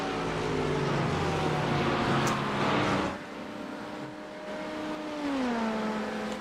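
Race cars sweeping through the Porsche Curves during a 24-hour endurance race, a loud engine howl that rises, then drops as one car fades, and another climbs in pitch close behind, no talk.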